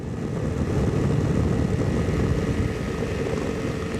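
Ultralight aircraft engine droning in flight, a dense and steady buzzing roar with a faint whine above it. It stays close and loud throughout, with no voices.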